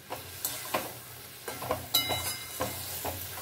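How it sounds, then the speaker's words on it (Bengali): Spice paste being stirred in a pan over a medium flame for Bengali sajne charchori, a steady sizzle of frying under repeated scraping strokes that come about every half second, close and moderately loud. "এবারে শুধু এভাবে নাড়াচাড়া করে নেব"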